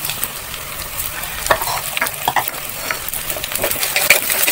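Small onions sizzle in hot oil with finely ground garlic and ginger, loud and close, while a spoon scrapes and clatters against the pan in busy, irregular stirring.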